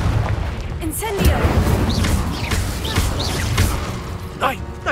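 Fire spell cast in a Harry Potter video game duel: a roaring, crackling blast of flame that booms and bursts through a busy, noisy scene, mixed with other spell effects and game sound throughout.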